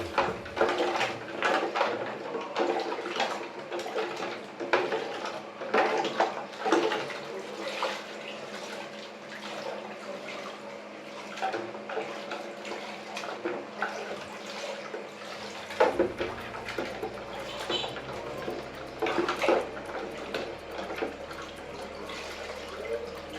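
Hands washed under a running tap while making tigernut drink, with splashing water, drips and occasional clatter of items, close and uneven in rhythm throughout, the flow shifting partway through.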